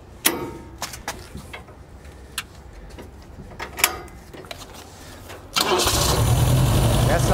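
A 1977 Toyota Hilux six-wheeled mini truck engine cranks over and catches near the end, settling into a loud, steady running roar after a few scattered clicks and knocks.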